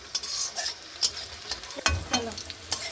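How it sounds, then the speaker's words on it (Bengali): Onion and chili fry in hot oil while a utensil scrapes and stirs the pan in quick, repeated strokes. Each stroke stands out as a sharp scrape over a continuous close sizzle, with no talking. "আমরা তেলটা গরম করে পেঁয়াজ লঙ্কা দিয়েছি হালকা মতন ভেজে নেবো"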